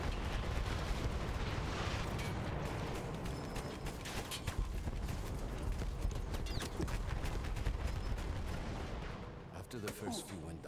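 Battlefield 1 gunfire on the Italian front rings out as rapid, continuous shots over a heavy battlefield din, with voices talking through the fighting.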